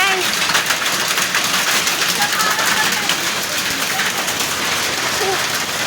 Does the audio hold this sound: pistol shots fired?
no